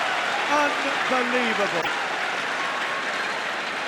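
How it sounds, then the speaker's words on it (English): A crowd applauds after a rally in the 2012 China Open women's table tennis final between Liu Shiwen and Chen Meng, a steady roar of clapping under an excited commentator's voice. "Stand up wherever you are and applaud that."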